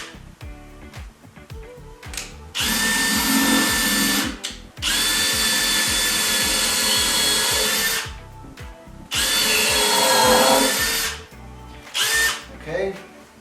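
Loud core drill with a quarter-inch bit boring into a log in three long bursts of several seconds each, with short pauses and quieter handling noise between them.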